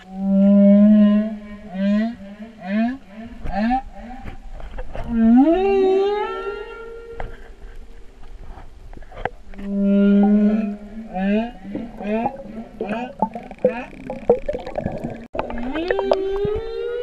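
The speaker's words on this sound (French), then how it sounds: "Alors on va voir les baleines." Underwater whale song: long, loud tonal moans and rising whoops with harmonic overtones, repeated in phrases across the stretch, some sliding upward, over a faint watery background.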